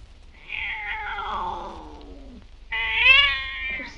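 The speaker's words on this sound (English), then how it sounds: "You're twisting that poor cat's ears off." A cat meows twice, a long descending wail followed by a louder, higher-pitched rising cry, close by and loud with no talk over it.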